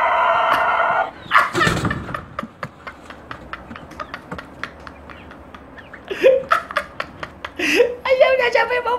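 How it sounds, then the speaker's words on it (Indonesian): A rooster crows, a long drawn-out call, with sharp clicks, clucking and other fowl noises around it, close by. "Panjang banget nih ayam suaranya"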